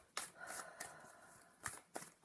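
Tarot cards being shuffled by hand, soft papery riffles and slaps in short bursts, faint and close in a quiet room.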